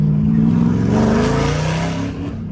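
A Kong 2650 supercharger engine, a 3.5 making about 7 PSI of boost, revs loud and close with a steady harmonic drone, the pitch sliding as it pulls through the rev range for a couple of seconds.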